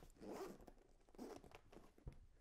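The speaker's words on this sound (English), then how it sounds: "Zip that up." A zipper closes a carry case for a Hydragun Atom massage gun in a few quick, close pulls of uneven length.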